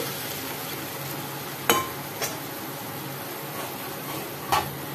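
Pomfret fish curry simmers in a pan, a soft steady bubbling hiss at low level, broken by a few sharp clinks of a utensil against the pan.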